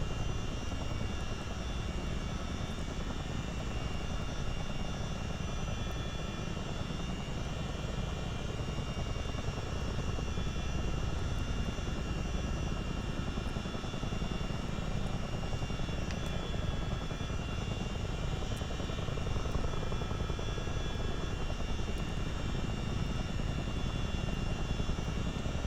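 A CH-47 Chinook twin-rotor helicopter flying low in a flight simulator game, its loud engine and rotor drone running continuous and unbroken throughout, with no other sounds.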